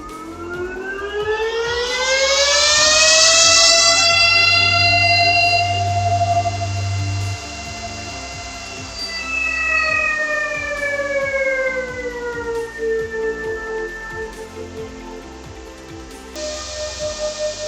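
An Antminer L7 crypto mining machine starting up loudly. A whining fan tone sweeps upward, holds, then winds back down over a constant mechanical hum, close and without voices.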